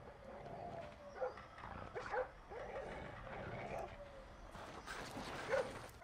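A dog barking somewhere in the co-op stealth video game Splinter Cell: Blacklist, short yips and barks scattered through the scene beneath game ambience and occasional voices.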